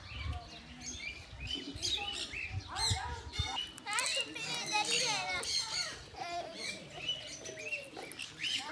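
Parrots and small birds at a bird park feeding table chirp and twitter in dense, overlapping bursts, with a person talking over the scattered seed.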